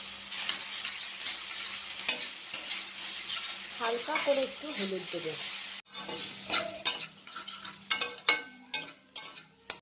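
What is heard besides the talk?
frying and stirring ingredients in a pan for spicy semolina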